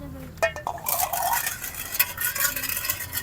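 A glass is used to stir a mixture in a bowl, giving a close, quick run of scraping and clinking strokes against the dish, with a few brief sharp taps at the start.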